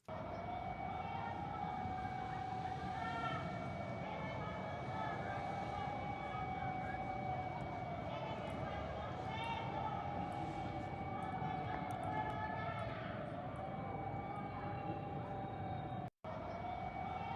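Air raid sirens wail across the Venezuelan capital during an attack, a steady rising and falling tone repeating in slow sweeps over a constant background rush, fairly distant and continuous.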